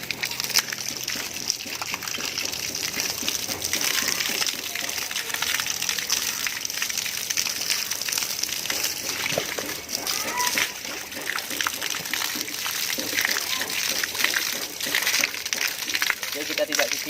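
Water splashing and gushing over a horse during an afternoon wash, a continuous loud spray and slosh running throughout, with voices talking over it.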